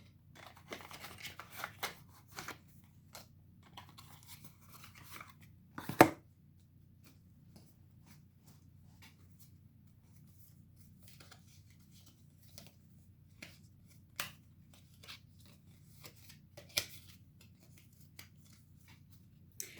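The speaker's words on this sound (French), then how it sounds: "Maintenant, je vais tirer une carte du succès." Oracle cards shuffled and drawn by hand, scattered soft flicks and rustles at close range with one sharper snap of cards in the middle, otherwise quiet with no talking.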